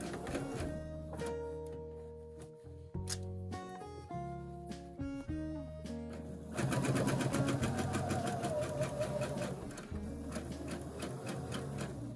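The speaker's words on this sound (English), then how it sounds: "I'm just going to back stitch to secure it." A sewing machine runs in short bursts and then one longer continuous run while back stitching to secure a quilt binding, with a mechanical whir and rapid needle clatter, close and clear, with no speech.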